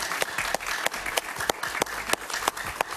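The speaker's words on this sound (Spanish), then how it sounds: "Un aplauso para ellos" A studio audience applauds at the close of a television interview show, many hands clapping in a steady crisp patter at moderate distance, with no talk over it.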